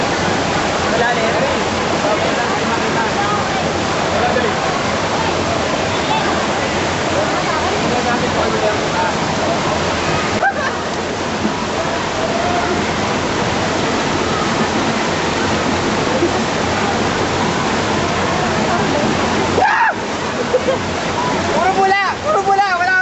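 Loud, continuous rush of water at Taytay Falls, heard up close and filling the whole scene, with voices talking faintly under the roar.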